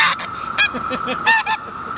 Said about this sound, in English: Let's get that ornery guard goose.